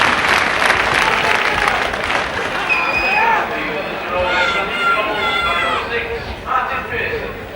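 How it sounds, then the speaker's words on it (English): Rugby league supporters applaud and cheer a kick at goal during a Featherstone Rovers versus Warrington match, a sustained crowd roar at moderate distance with some whistles, under a commentator's voice. "The crowd love it behind the sticks."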